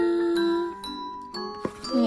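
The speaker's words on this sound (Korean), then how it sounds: "딩동댕." A ding-dong chime sounds for a correct answer in a toddler's picture-matching game, a sequence of bright, sustained ringing tones at different pitches, loud and close, with no talking.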